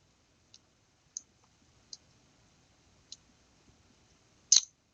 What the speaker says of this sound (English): Then I'm going to right click and paste those 3 files into that folder.